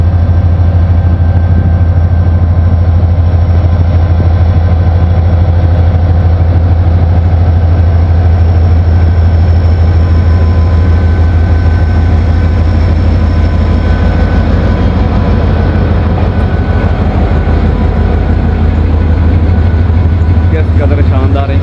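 A Pakistan Railways locomotive engine runs at idle, giving a steady, loud, deep drone with a constant low hum and faint higher tones throughout.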